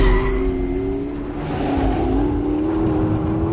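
A roughly 900-horsepower car in race mode with traction control off accelerates hard on a slightly wet, greasy surface, its engine a loud, rising drone with a faint tyre squeal mixed in, heard from close by.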